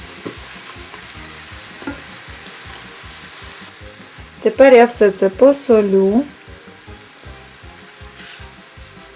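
Steady sizzling of browned meat, onions and beets frying in a pan, with a voice speaking briefly in Ukrainian over it midway.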